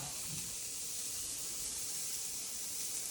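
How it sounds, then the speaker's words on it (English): A burger patty sizzles steadily in a hot pan, a continuous close hiss with no talking over it. "We'll take our patty. We're gonna throw it on right in the middle of this hot pan"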